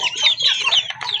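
A farm chicken clucks in a quick, close run of sharp, throaty calls lasting about a second, loud and alone without any talking.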